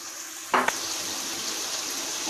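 A sudden splash of water into a hot pan of spices and turmeric triggers a loud hiss, settling into a steady sizzling fry that continues evenly.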